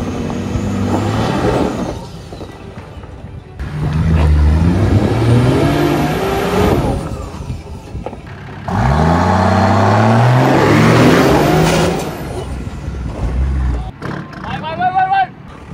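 A 4WD vehicle's engine revs hard in second gear on a rough off-road track in South Australia, rising and falling in loud, close surges with pauses between, while people talk over it.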